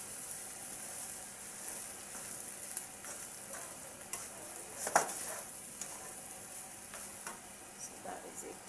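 Ginger garlic fried rice sizzles softly in a pan over reduced heat while a utensil stirs and scrapes it, with light intermittent clinks over a steady quiet frying hiss.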